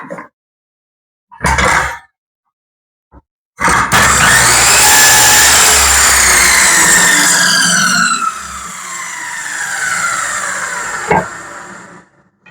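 A power saw set to 45 degrees cuts the end off a wooden board. A short motor burst comes first, then a long, loud whining cut of about five seconds that drops to a lower spin-down, ending with a knock.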